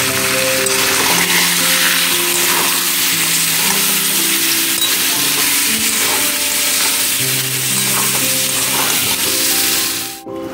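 Spice paste with cashews, tomato, ginger and green chili sautéing in hot oil in a pan, giving a loud, steady sizzle with stirring scrapes throughout, cutting off abruptly near the end.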